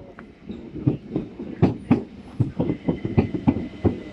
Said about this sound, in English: now it's going to be the 1434 SouthEastern service to from Hastings to Charing Cross via Tunbridge Wells